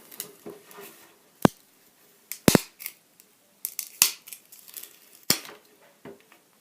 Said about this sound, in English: Let's take off the protector.